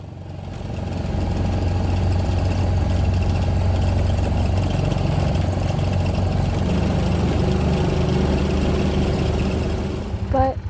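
An old Honda side-by-side climbs a steep snowy hill. Its engine gives a steady, loud, close mid-pitched drone that holds for about ten seconds, then a brief clunk at the end, with no speech.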